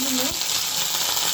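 Ginger tempering dropped into hot oil alongside bay leaf, dried chilli and cumin for a Bengali dal, making a bright continuous hiss and sizzle; a brief voice sounds at the very start.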